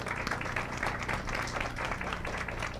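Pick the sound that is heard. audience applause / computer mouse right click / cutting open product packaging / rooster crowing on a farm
audience applause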